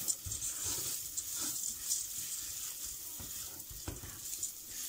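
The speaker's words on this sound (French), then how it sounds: "Et on va bien les remuer." Lentils stirred in a risotto pan, giving soft, quiet scraping and shuffling with a light sizzle underneath, repeated in short strokes.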